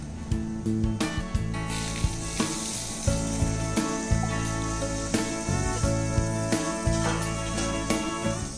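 Chopped onion hits browning mushrooms in a hot pan, setting off a loud, continuous sizzle broken by rhythmic scraping and stirring.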